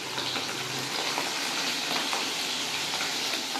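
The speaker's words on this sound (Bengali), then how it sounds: "দেখুন আমার মাছগুলো ভালো করে ভাজা হয়ে গেছে।" Pomfret fish frying in oil in a kadai produce a dense, even sizzle close by, steady throughout with no voices.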